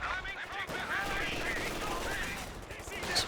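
Suppressed machine-gun fire and rifle shots crackle in a Company of Heroes 2 1v1 battle, a dense continuous clatter of rapid bursts beneath a commentator's voice.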